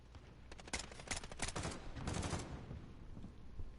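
A gun in Call of Duty Modern Warfare fires a quick volley of sharp shots in short bursts, faint and with no talk over it.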